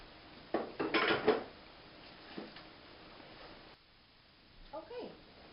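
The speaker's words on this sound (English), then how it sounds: "We're going to cut some tomatoes." A knife chops tomatoes on a cutting board in a home kitchen, a short burst of quick knocks, then a lone tap and a faint later clatter, fairly quiet.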